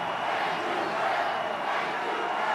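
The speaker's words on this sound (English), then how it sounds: "This crowd is in a frenzy." Stadium crowd roaring at Heinz Field during a 2021 Pittsburgh Steelers football game, a continuous wash of distant cheering and shouting from thousands of fans, steady and unbroken.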